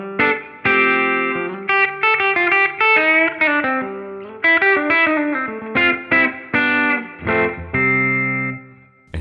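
An electric guitar played through a Fractal FM3 with a compressor placed before the EQ sounds out in distorted, chorused phrases, with punchy separated notes and chords and short gaps between them.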